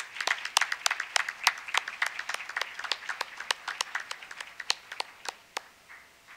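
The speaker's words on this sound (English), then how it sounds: "Let's have a round of applause." Scattered audience applause at a board meeting, a modest group clapping with sharp, irregular claps at moderate distance that thin out toward the end.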